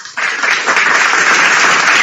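A crowd bursts into applause after a brief silence, with loud, steady clapping from many hands that carries on to the end.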